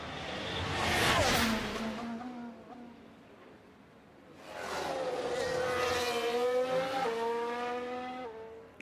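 F1 car in F1 Manager 24 at Imola, engine howling past twice, rising and falling through gear changes, the second pass longer and sustained with rapid upshifts.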